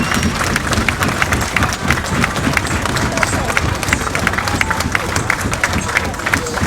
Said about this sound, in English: So please, one big round of applause for Sacrifice,